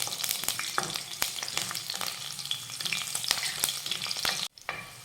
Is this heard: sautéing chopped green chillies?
yes